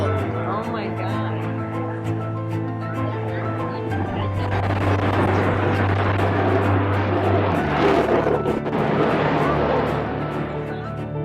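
An airplane stalls at an air show, its steady engine drone shifting abruptly in pitch over a wash of wind and crowd noise, with voices talking beneath.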